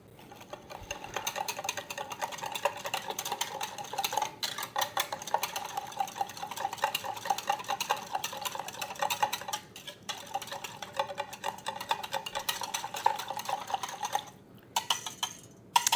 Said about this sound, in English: Now I'm just going to grab a whisk and mix this up.